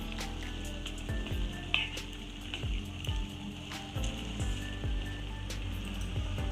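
Tomatoes and tamarind sizzle in a pan for a tomato pickle, giving a soft, rain-like crackle with recurring scraping stirs heard close and at moderate volume.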